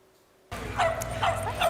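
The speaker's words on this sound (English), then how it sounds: "Emily Fitzpatrick shows us an indoor dog park in Edmonton that's seen a boom in business during the deep freeze." Dogs at an indoor dog park in Edmonton yip and bark amid busy, echoing activity that starts abruptly after a quiet moment, with several barks rising over a steady crowded background.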